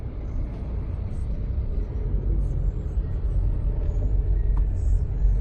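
Steady low road rumble from inside a car moving through traffic in Novaliches town near Santa Monica, with faint hiss of passing vehicles and a brief air-brake-like puff, no talk over it.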